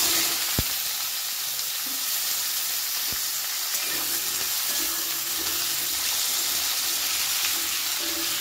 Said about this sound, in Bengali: এবার আমি তেলের মধ্যে দিয়ে দেব কেটে রাখা আলু